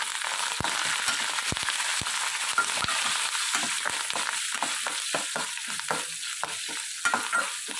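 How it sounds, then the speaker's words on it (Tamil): Coriander, curry leaves and green chillies frying in hot oil, a loud steady sizzle with crackling pops and occasional stirring knocks throughout, no talking. "இந்த டைமில் இந்த பத்தமல்லி கருவேப்பிலை பச்சைமிளகாய் சேர்த்துக்கலாம்."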